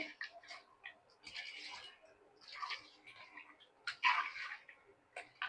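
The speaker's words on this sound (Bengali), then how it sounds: "এরপরে আমি পোলাও চালটা ধুবো।" A kilo of pulao rice being washed by hand in water, with intermittent wet swishes and sloshing bursts that come and go in short, uneven rounds at close range.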